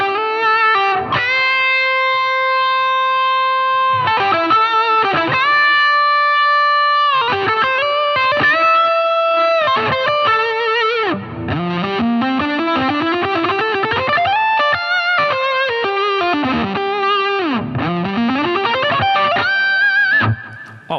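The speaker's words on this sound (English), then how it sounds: "Let's crank up this drive here and just get some singing distortion" Electric guitar lead played through a solid-state amp with the drive cranked for singing distortion: sustained bends, vibrato and fast blues licks, loud and continuous with no talking.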